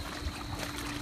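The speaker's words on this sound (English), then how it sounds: "Water circling really well." Water churning and circulating in a DIY backyard swimming pool, pushed by a strong return jet from a pool pump running at 3,200 RPM; a steady, close wash of bubbling water with no talk.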